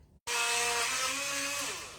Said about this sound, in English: Figured I'd start blending